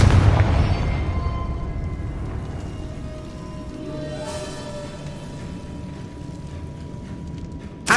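A Confringo blasting spell explodes in Hogwarts Legacy, opening with a loud, deep boom that decays into a long rumbling, crackling tail, followed by a small sharp burst at the end.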